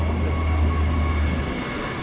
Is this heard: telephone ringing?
no